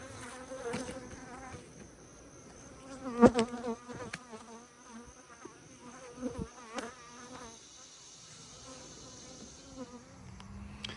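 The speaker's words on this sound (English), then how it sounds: "Bees are buzzing." Many bees hum and drone continuously nearby, individual insects zipping past with wavering pitch against a busy buzzing background.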